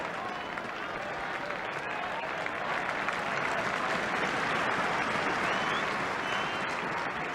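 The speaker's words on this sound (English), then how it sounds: "Crowd rise to young Bryn Gunn." Football stadium crowd applauding a young Nottingham Forest player in a 1979-80 European Cup quarter-final, a dense, sustained roar of clapping that swells slightly midway, with commentary faint beneath.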